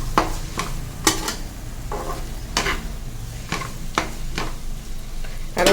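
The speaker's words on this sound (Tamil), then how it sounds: "சிம்லேயே கிளறி விடணும்." Maggi veg noodles stirred in a pan over a low flame, with repeated sharp scrapes of a spoon against the pan at an uneven rhythm over a soft, steady sizzle, close and fairly loud.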